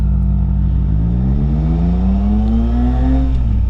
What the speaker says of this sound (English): how can you not love motorcycling when you hear this?